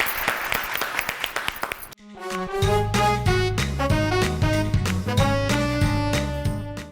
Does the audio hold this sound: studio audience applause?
yes